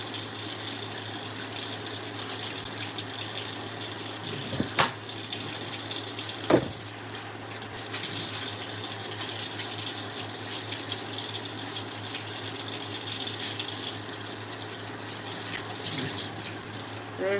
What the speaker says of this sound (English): Wash this rice.